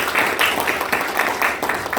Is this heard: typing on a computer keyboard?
no